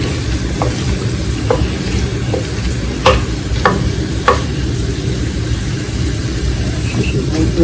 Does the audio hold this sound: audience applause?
no